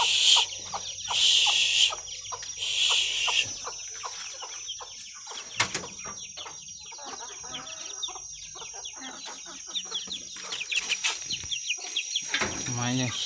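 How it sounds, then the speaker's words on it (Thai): Chickens cluck and call intermittently around a yard where caged red-whiskered bulbuls are kept, with a high steady tone throughout and people talking nearby. "ไก่ก็ยั่วอยู่แถวนี้"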